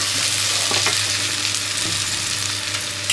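Loud, steady sizzling of onions and prawns frying in a hot pan, with occasional stirring scrapes and no voices.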